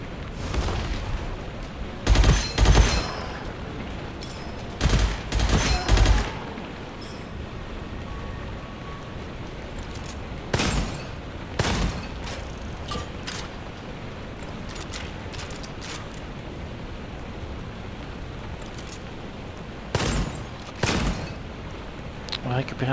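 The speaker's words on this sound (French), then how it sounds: "je vais directement commencer par casser les pots" Gunfire and pots breaking in the shooter game Gunfire Reborn, sharp bursts of shots and smashing in clusters near the start and again later, over a steady game soundscape while someone talks throughout.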